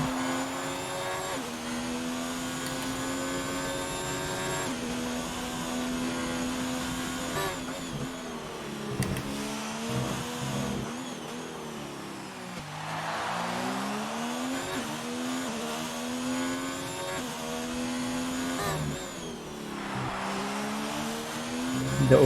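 A race car roars through an onboard flying lap of the Singapore street circuit in a racing video game, its loud, high engine note climbing through the gears, dropping sharply under braking and rising again, with tire squeal in places and no talking.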